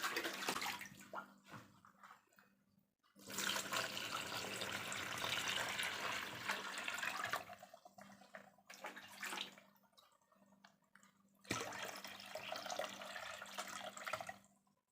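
About 2 liters of water pours steadily into a container in several long bursts separated by short pauses, a broad rushing splash close to the microphone.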